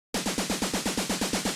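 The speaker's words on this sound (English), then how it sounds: "snare roll is also incoming" Snare roll effect in a tech house track: a quick, evenly spaced burst of about eleven punchy snare hits, each with a short tail, clear and isolated.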